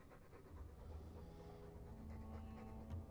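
A dog pants steadily in Dragon Age 2, with quick rhythmic breaths that are faint and close, under a low hum of game ambience.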